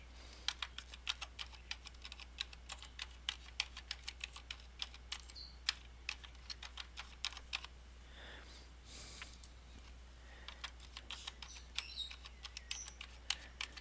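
Password keys tapped on a computer keyboard, a steady run of close, crisp clicks in uneven bursts with a short pause midway, over a low constant hum.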